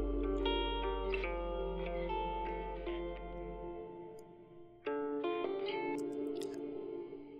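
A tonal sample with tick-like plucked notes and reverb tails, played alone, its stereo width narrowing toward mono, its sound steady then slightly shifting near the middle before continuing.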